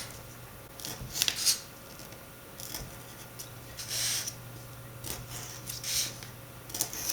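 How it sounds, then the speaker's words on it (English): Scissors snip around a cardboard template, a series of quiet, close crisp cuts and rustles spaced irregularly over a low steady background hum. "So first of all I'm going to cut round my cardboard template."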